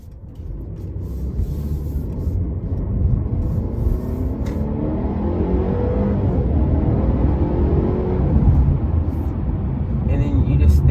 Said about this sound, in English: we're gonna test acceleration here